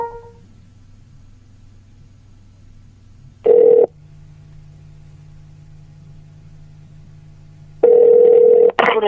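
A telephone on speakerphone plays a low steady dial tone, broken by two loud bursts of ringing or dial tones several seconds apart, with no one talking.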